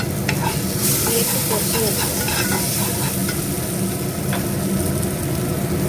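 Ground poppy seed paste with chilli powder, turmeric and asafoetida sizzles loudly in a frying pan while being stirred, a constant close hiss with light scraping scattered throughout.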